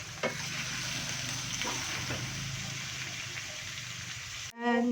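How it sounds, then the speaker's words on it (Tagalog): Pork bopis sautés with garlic and onion in a pan, a continuous close sizzle and crackle with occasional stirring scrapes, cut off abruptly near the end. "Niluluto na natin yung bupis. Ginisa na natin siya sibuyas, bawang."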